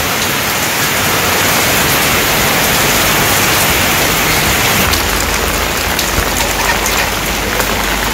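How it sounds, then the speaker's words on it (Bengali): Heavy rain pours steadily, a dense, continuous hiss of drops drumming on surfaces close by, with no voices. "তো এই যে বৃষ্টি নামছে অঝরে একদম"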